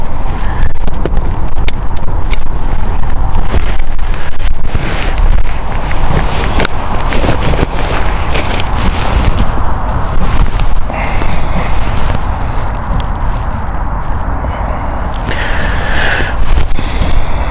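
Strong wind buffets the microphone outdoors near Stansted Airport, a loud, continuous rumbling roar with gusty surges throughout, and occasional higher hissing swells toward the end.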